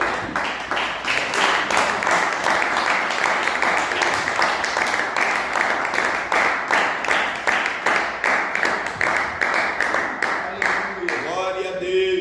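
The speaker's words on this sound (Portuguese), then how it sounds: "louvar a Deus com as palmas" A church congregation claps in praise, loud, rhythmic and evenly timed hand claps repeating steadily for about eleven seconds before a voice rises at the end.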